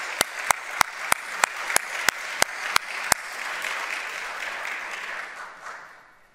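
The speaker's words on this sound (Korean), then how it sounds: "그래, 크게 한번 박수 하십시다." A church congregation claps at the pastor's call: a run of evenly spaced sharp claps about every third of a second, swelling into steady, moderately loud applause that fades out at the end.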